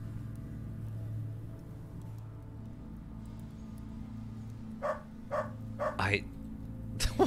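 A dog in the video game UnderRail barks in several short, separate yaps toward the end, quiet and distant behind a constant low game hum and a voice speaking.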